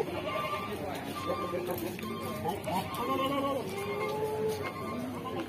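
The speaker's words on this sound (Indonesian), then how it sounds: "Ini kambing Jawa, guys." A Javanese goat bleats repeatedly at a busy livestock market, several wavering calls rising over a dense crowd murmur and general market din.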